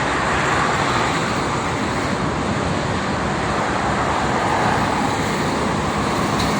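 Steady, dense roar of private cars moving along the Jakarta-Cikampek toll road in the morning, a continuous close wash of tyre and engine noise with no talking.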